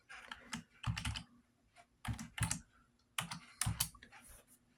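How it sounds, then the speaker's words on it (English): Clacking keystrokes on a computer keyboard in short bursts of rapid typing separated by pauses, close and fairly quiet. "let's just type in Google"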